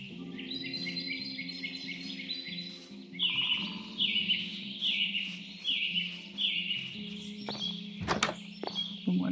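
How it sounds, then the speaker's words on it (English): Birds in the Whimsywood: Wizards & Witches video game chirp and trill in repeated bright phrases over a soft ambient hum, with a few dull thunks and footsteps and no voices. "Listen to the birds sing"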